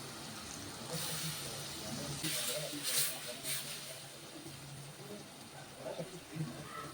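Cubed tomatoes drop into a hot pan for meatless Egyptian-style moussaka and hiss in short, quiet bursts that fade to a faint simmer, with a voice talking lightly in the background.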